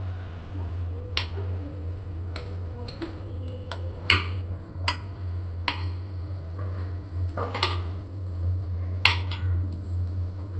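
Fish head pieces are turned over in a covered pan, giving sparse, sharp clinks and taps over a steady low cooking hum, with no talking.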